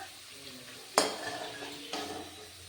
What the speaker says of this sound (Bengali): এখানে আলুগুলো ভেজে নিচ্ছি